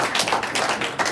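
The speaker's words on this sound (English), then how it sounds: "that was a solid clap" A university meeting audience claps together in a dense, steady burst of many hands, loud and close, with brief swells and no talk over it.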